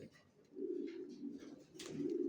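Soft, low cooing of racing pigeon chicks in repeated rolling phrases, close and fairly quiet, with a brief rustle midway; no talking.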